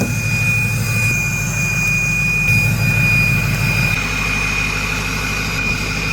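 A Ford 6.0 Powerstroke diesel truck engine, recorded close from the hood, gives a loud, heavy low rumble with a continuous whine on top, holding steady with slight swells in pitch and volume.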